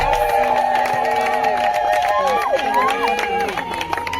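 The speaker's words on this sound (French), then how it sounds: "Applaudissez" Wedding guests at a civil ceremony break into cheering and clapping amid lively crowd chatter and raised voices, loud and close, with whoops and calls over the applause.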